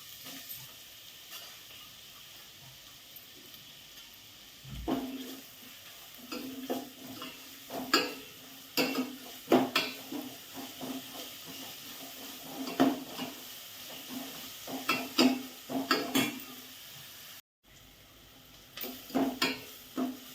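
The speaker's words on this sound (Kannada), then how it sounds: "ತುಪ್ಪದಲ್ಲೇ ಕ್ಯಾರೆಟ್ನ ಹುರ್ಕೊಂಡಾಗಿದೆ." Grated carrot frying in ghee is stirred in a pan for payasa, giving a soft sizzle under irregular spoon scrapes and clinks. The sounds are close but fairly quiet, with a brief pause near the end and no talking.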